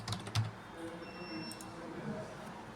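A verification code for a Hikvision IP intercom system gets typed on a computer keyboard: a few quick, faint key clicks, sharper at the start, then a softer run of taps.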